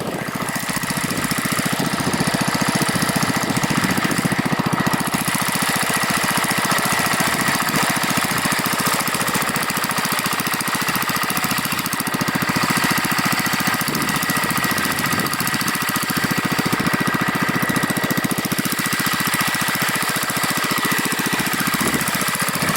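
A Gravely walk-behind tractor engine runs at low idle out in a field, a loud, continuous rough chugging drone with steady vibration and no speech.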